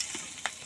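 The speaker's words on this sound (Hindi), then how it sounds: "आलू भजा चलची" Soft, steady sizzle of potatoes frying in a pan, with a couple of brief scraping clicks from stirring; no talking.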